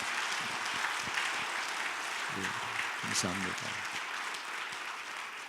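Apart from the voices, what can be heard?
church congregation applauding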